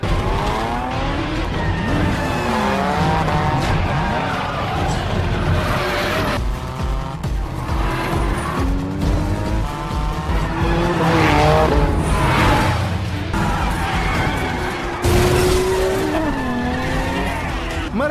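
Racing cars in Fast and Furious Tokyo Drift, running a mountain race, skid with repeated tire squeals over loud revving engines, pitch sweeping up and down as cars slide and pass close by, continuous throughout.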